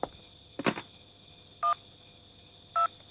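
A telephone is dialed for a call in an animated film, with a sharp click followed by two short, evenly spaced keypad tones on a quiet background.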